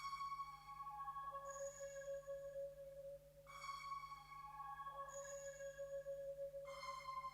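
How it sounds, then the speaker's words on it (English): A soft ambient synth pad in an FL Studio hip-hop beat, sustained tones swelling and changing pitch in slow repeating phrases over a steady low hum, with no voices. "Then I added this ambient pad just to give it a little bit more drive and atmosphere in the whole sample."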